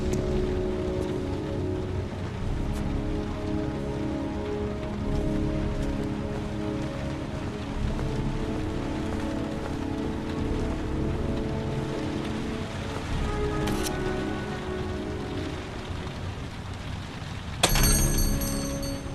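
Steady rain pours down in the video game Heavy Rain, a dense, even patter on surfaces that continues throughout with a sharp brief clatter near the end.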